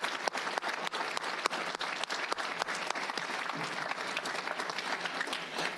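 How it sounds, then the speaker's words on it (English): Steady round of applause from the audience at a public school board meeting, dense clapping filling the room at an even level throughout without pauses. "Let's give them a round of applause anyway."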